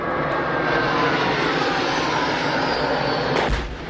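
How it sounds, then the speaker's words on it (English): A helicopter gunship high over Kachin State near the Chinese border, heard as a loud, continuous engine roar from a distance that drops away near the end. "High in the air above Kachin State, not far from the Chinese border, a helicopter gunship fires on the ground below."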